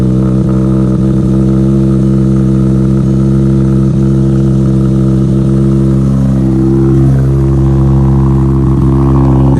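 A Mk5 Jetta 2.5L engine fitted with a custom intake idles steadily and loud, close up, with a brief rise in revs partway through and no voices.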